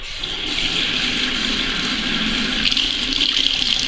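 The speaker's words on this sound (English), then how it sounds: "the first thing I want to do is run it under some water." Water runs from a faucet over a Beauty Blender sponge in a steady, close gushing rush that holds throughout with slight splashing changes.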